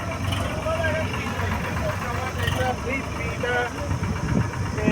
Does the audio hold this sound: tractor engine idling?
yes